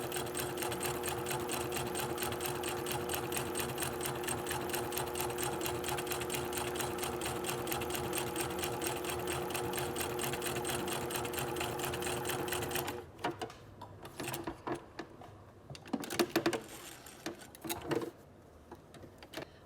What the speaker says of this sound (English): I'm just going to come forward and be stitching 1/16 inch over from my fold.